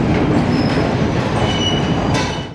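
A train rumbles steadily at a railway station, loud and close, with rolling wheel noise, a clickety-clack rhythm and brief squeals, continuous before easing off at the very end.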